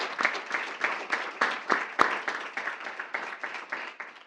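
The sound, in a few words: audience applause at school board meeting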